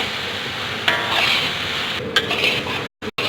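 Carrots sizzle and fry in desi ghee in a pan for Pakistani gajar ka halwa, a steady crackling hiss with occasional scrapes and clinks of a spoon stirring against the metal, brief gaps near the end.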